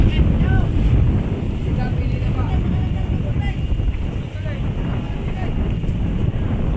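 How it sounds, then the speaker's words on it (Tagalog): Strong typhoon wind in Quezon, Philippines, buffets the microphone with a constant low roar, and a voice talks faintly under the gusts. "Lakas na ng hangin oh."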